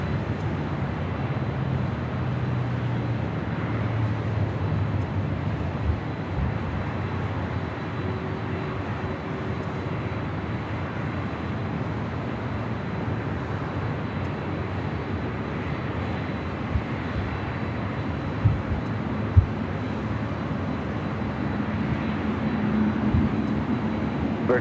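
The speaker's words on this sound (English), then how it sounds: "This is Flight 113 heading back to Manila. This 777-300ER." Boeing 777-300ER airliner on Flight 113 departing Los Angeles International Airport for Manila, a steady broad engine roar at moderate distance holding through the whole stretch with no voices.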